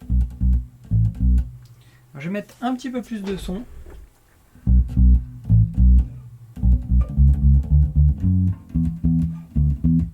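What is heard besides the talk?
staccato bass guitar notes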